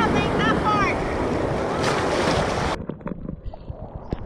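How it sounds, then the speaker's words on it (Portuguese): Rough surf breaking at Perequê-Açu beach in Ubatuba, with loud, dense wave wash and wind buffeting the microphone, then a sudden drop to quieter lapping water; people shout briefly in the background. "Olha a onda!"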